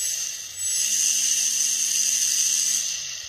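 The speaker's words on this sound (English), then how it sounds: "So actually this is a very powerful motor." A powerful 1000 kV brushless motor, driven through an ESC from a servo tester, spins up quickly into a loud, piercing high whine, holds a steady speed, then begins to wind down near the end.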